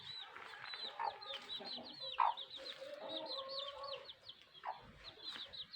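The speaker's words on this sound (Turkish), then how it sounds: "civcivilerimiz 11-12 günlük falan oldu galiba. Annesiyle beraber geziyorlar." A mother hen wanders with her chicks of about eleven or twelve days old, soft repeated clucks mixing with thin high peeps close by, a gentle continuous farmyard chatter with no voices.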